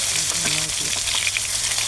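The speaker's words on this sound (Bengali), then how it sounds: "সেই তেলটাও সাথে মাছটার সাথে দিয়ে দিয়েছি। তেলটাও ভাজা হচ্ছে।" Rohu fish pieces and soybeans fry in hot oil in a pan, giving a steady, close sizzle with faint crackles throughout and no talking.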